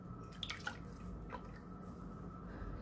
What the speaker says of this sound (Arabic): كل اللي علينا نعمله إنه نحط الزيت